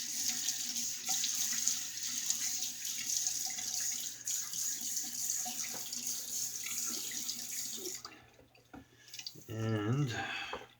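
Tap water runs steadily into a sink while a face is wetted before shaving, a continuous hiss that stops near the end, followed by brief handling noises and a short burst of nearby speech.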